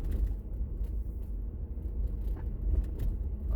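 A car rolls slowly along a residential street in Maryville, its engine a steady low rumble close by with faint road noise and no talking.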